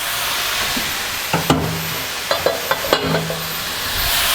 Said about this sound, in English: we're sauteing our veg